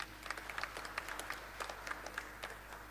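Scattered clapping from a church congregation, a steady patter of hands heard from a distance, fairly faint, with no voices over it.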